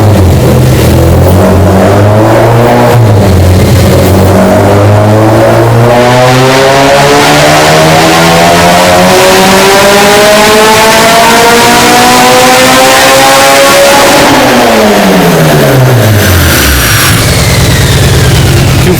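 A K-series engine in a budget-build FA5 Honda Civic Si revs hard on a dyno pull. Its pitch climbs steadily to a loud, strained peak, then drops off sharply.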